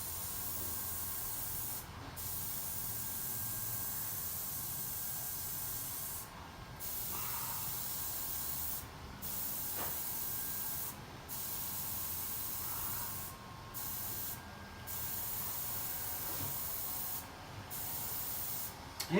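Air hissing steadily out of a UTV tire on a beadlock wheel as the pressure is let down from 11 to 10 pounds, a continuous close spray-like hiss with brief pauses throughout.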